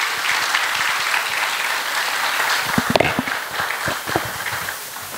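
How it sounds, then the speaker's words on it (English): Sustained audience applause for a panel at a business conference, a dense even wash of clapping with a few louder close claps and thumps partway through, easing slightly toward the end. "a big thank you, round of applause for a very,"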